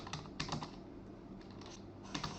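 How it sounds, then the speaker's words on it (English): Typing on a computer keyboard while setting up a shared text document on a Windows machine, with steady clicking keystrokes and a few louder taps, close and alone. "I'm going to type this is"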